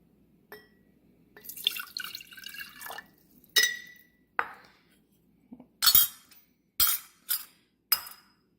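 Olive oil and then vinegar poured for a green apple vinaigrette, heard as a few quiet pours and trickles followed by several sharp drips and clinks against glass, close and isolated with no talking.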